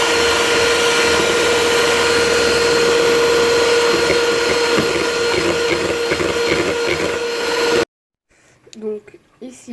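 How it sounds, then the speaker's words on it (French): Eggs and sugar are whisked until pale, most likely with an electric mixer, a loud continuous whirring hum that runs steadily and then stops abruptly near the end, after which a person speaks. "je vais mélanger, fouetter jusqu'à blanchiment des deux"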